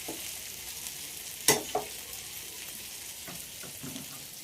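Flatbread roasting on a hot pan gives a steady soft sizzle, broken by one sharp knock and a few light scrapes as it is handled.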